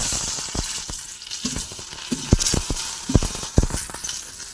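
Boiled small potatoes fry with nigella seeds in hot oil, giving a steady sizzle with repeated sharp clacks of stirring against the pan, fairly close.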